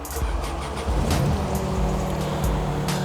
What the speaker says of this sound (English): you can turn the key to position 2 to start the engine